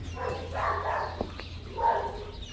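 Dogs in a pack bark, with two short bursts of barking about a second apart at moderate distance over a quiet background hum.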